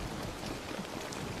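Heavy rain pours steadily outdoors, a dense, continuous wash of drops at high loudness with no breaks or voices across the short stretch.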